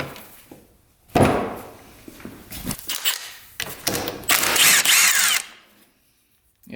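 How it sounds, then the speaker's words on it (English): A power tool works on the flywheel of a quad bike, starting with a long loud burst, then shorter revving bursts and a final sustained whirring run, with brief quiet gaps between them. "Let's take the flywheel off."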